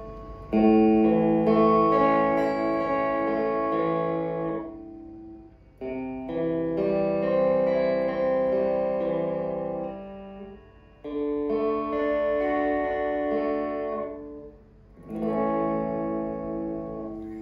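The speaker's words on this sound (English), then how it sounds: "So Reverb room at 1, that's this small room." Electric guitar chords played through a Fender Reflecting Pool pedal on its small-room reverb setting, four strummed phrases each ringing out and decaying quickly between.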